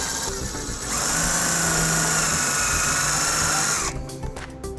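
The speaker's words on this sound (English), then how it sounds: "using a 1/4-inch socket we'll put our self-tapping screw into place" A power driver with a 1/4-inch socket runs a self-tapping screw into a trailer wiring bracket on a 2019 Hyundai Santa Fe XL, whining steadily and loudly for about three seconds before stopping.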